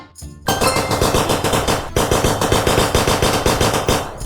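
Gunfire from a Roblox video game rattles off in rapid automatic bursts, loud and close, with a brief pause before the shots resume.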